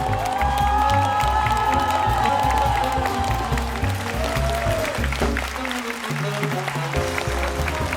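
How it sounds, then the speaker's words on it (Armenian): A comedy show audience in Armenia gives steady, loud applause with cheering for humorist Aghas Manukyan, sustained for several seconds over faint background music. "Ծափարությունները, աղասին ծափարությունները"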